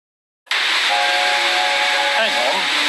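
A steam engine whistle in a Roblox Thomas and Friends game, starting abruptly after a short silence and holding a loud, continuous hissing blast with a faint tonal whistle inside it.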